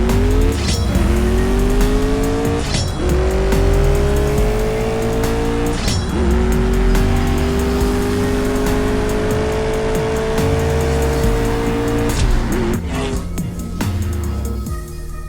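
McLaren 720S engine in the CSR Racing drag game, revving hard through repeated gear changes with rising pitch sweeps, sharp shift breaks and tire squeal, loud and continuous throughout.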